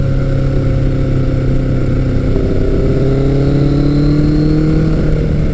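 Engine of a 1983 Kawasaki GPZ 1100 motorcycle on a test ride with a slipping clutch, loud and steady with a rising pitch as it pulls hard through the revs, heard close and alone.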